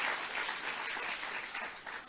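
Sustained audience applause in a hall during a keynote address by Ramaphosa at a national dialogue on anti-corruption, steady and dense throughout, tapering slightly at the end.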